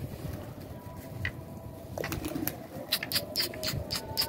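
Pigeons settling on rooftops and a net during a Hindi-narrated pigeon-catching outing; a few soft coos and scattered chirps sound at moderate distance over steady outdoor background noise, with bird calls clustering toward the end.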